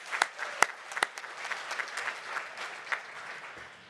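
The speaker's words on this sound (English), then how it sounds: "give yourselves a round of applause" Newly graduated nursing students at a college commencement ceremony under a tent clap for themselves: a few sharp, loud claps open a thinner, scattered patter of applause that trails off quietly.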